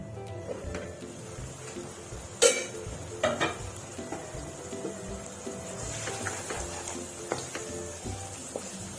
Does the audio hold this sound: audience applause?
no